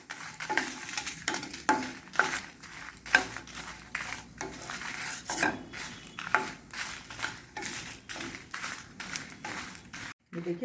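Chillies roasting in ghee in a pan for gun masala chutney, a spoon scraping and clinking against the pan in uneven strokes under a light sizzle, with a person talking over it.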